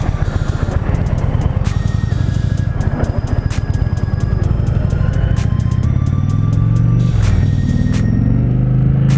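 A 2020 Indian Challenger motorcycle pulls away hard in sport mode, its loud engine rumble rising through the gears with sharp shift breaks, heard up close over wind buffeting.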